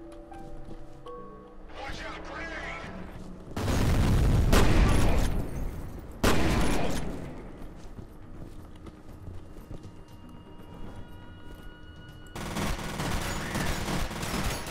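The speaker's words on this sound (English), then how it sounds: "I need to throw a grenade over there." Combat in the shooter F.E.A.R. with a grenade blast and gunfire: a sustained loud burst of rattling fire and a booming explosion midway, then rumbling decay and renewed crackling gunfire. Talk runs over the action.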